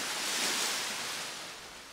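Seashore waves preset on a Yamaha Genos keyboard: a dense, wash of surf hiss swelling and slowly ebbing over two seconds, alone without voices.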